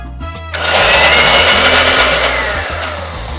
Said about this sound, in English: Let's get the top on there and we'll start to puree it.